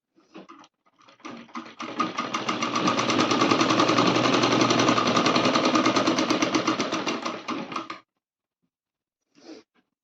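Sewing machine stitching a Rajputi poshak kachali, running in one steady continuous burst of rapid stitching for several seconds after a few short starts, then stopping, with a brief final whirr near the end.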